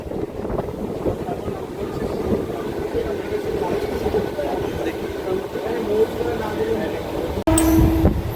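A Howrah–Panskura local train runs along with a steady, dense rumble and wind noise, then turns abruptly louder and sharper just before the end.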